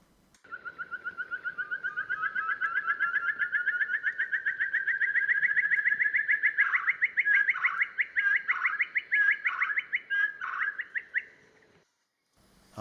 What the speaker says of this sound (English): This is a fruginous partridge. And this is his call.